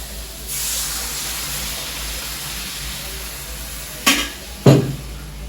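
Water poured into a pan of frying potatoes and pointed gourd sets off a loud, steady sizzling hiss that continues throughout, followed by two sharp knocks of a utensil near the end.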